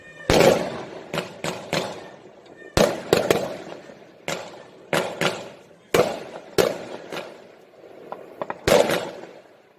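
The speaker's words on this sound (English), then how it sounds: "Let's play the fireworks right now." Celebratory fireworks sound effect played during a live stock-market stream marking a subscriber milestone: a string of sharp, loud bursts and crackling pops at irregular intervals, close and prominent with no talk over them.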